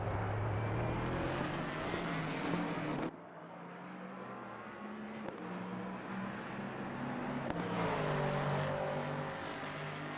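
A Porsche GT race car engine in a racing video game at Monza, loud and steady with a tone that rises and drops through gear changes and a sharp cut around three seconds in, with no talking.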